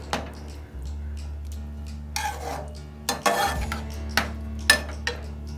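Pav bhaji mixture being sautéed and stirred in a pan for a Mumbai-style recipe, with scattered spoon scrapes and clinks against the pan over a steady low hum, louder bursts of stirring coming in clusters.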